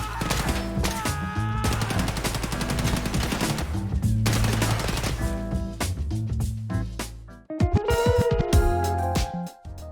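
Automatic gunfire in Escape From Tarkov: loud, rapid bursts of shots with hard recoil snaps that run nearly continuously. A brief pause comes before a final heavy volley.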